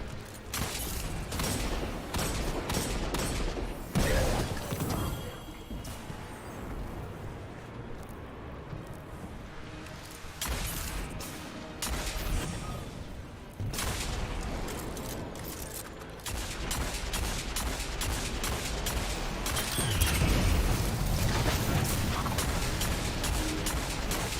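Rapid bursts of automatic gunfire from Destiny 2 Lightfall, with clips emptied in dense, loud volleys that pause briefly and restart, mixed with mechanical weapon clatter and no talking.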